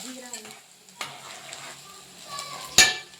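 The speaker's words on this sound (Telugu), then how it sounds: "ఇలా ఆయిల్ హీట్ అయిన తర్వాత జీరా వేసుకోవాలి. కొంచెం చట్పట్ లాగాలి" Cumin seeds crackle in hot oil for a palak paneer base, giving a low steady sizzle with scattered pops and one sharp louder snap near the end. No voices are present.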